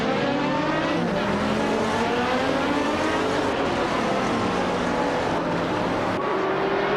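A 2009 SR Jaguar XK race car in a racing video game, a loud continuous engine roar with rising and falling revs, mixed with other cars in the pack, no talk.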